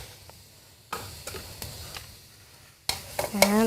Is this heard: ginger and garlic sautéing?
yes